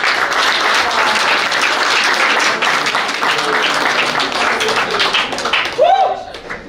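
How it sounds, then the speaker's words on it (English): An audience applauds steadily at a public speaking competition, dense and fairly loud clapping that runs throughout, with a voice briefly rising over it near the end. "Why don't you stop applauding until I finish?"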